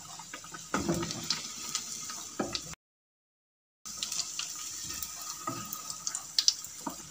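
Potato-filled bread pakora fries in hot oil, giving a steady close sizzle with crackles and pops, briefly cutting out to silence before the frying resumes.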